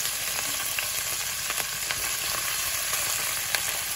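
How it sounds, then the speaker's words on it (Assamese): Beans, carrots and peas frying in a pan, a steady close sizzle with faint crackles and occasional light stirring, no voices. "গাজৰ আৰু মটৰখিনি ভাজি লওঁ।"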